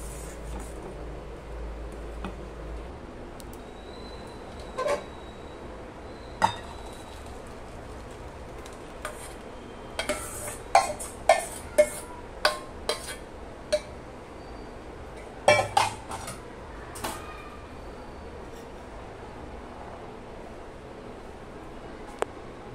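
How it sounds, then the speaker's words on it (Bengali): Metal spoon and utensils clink against a pot and bowl while thickened sewai kheer is ladled into a separate bowl, giving scattered sharp scrapes and taps over a quiet background, clustered in the middle. "এবার আমি আলাদা একটি পাত্রে নামিয়ে নেব।"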